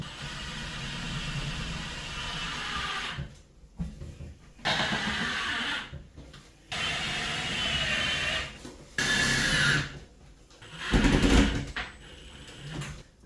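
A driver runs screws into floor joists while a Panasonic bathroom fan is mounted, giving four short bursts of whirring buzz, each a couple of seconds long, separated by pauses, close and fairly quiet.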